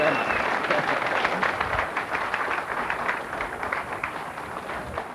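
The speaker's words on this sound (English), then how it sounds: "please give him a great round of applause" An audience applauds to welcome Colonel Wendell Stevens to a UFO and paranormal meeting, steady close clapping from a crowd that continues throughout.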